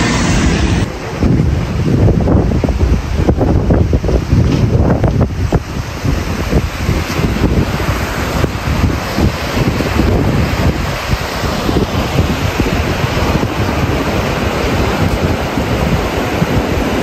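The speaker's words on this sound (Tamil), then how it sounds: "மலைக்கு நடுவில் அருவி ஓடுற சத்தம் அவ்வளோ இனிமையாக இருக்குது கேட்குறதுக்குள்ள" A waterfall between mountains roars steadily and continuously, loud and close, with gusts of wind buffeting the microphone throughout.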